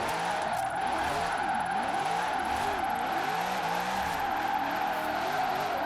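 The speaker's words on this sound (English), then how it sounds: "this is more than enough power to keep it sliding very smoothly" Chevrolet Corvette C8, a mid-engine car in the Forza Horizon racing game, held in a long smooth slide, its engine droning steadily with wavering pitch and a constant tire hiss, loud and continuous with no talk.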